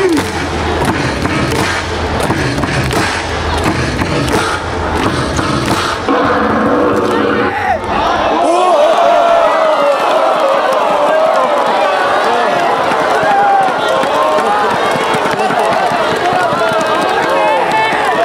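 A baseball stadium crowd cheering in the bottom of the ninth claps and chants together in a dense, loud wash, with an amplified voice leading the cheers at first before the roaring crowd takes over.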